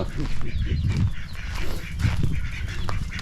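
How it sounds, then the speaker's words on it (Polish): A group of ducks, among other farmyard fowl, approaches on foot with continuous loud, close honking and quacking calls that overlap, while someone talks over them. "I kaczki też lecą."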